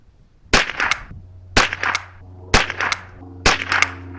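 Four sharp .22LR rifle shots from a Remington Cyclone, fired through a 16.5-inch bull barrel on a 10/22, crack out about a second apart, each a loud, close report with a short ringing tail.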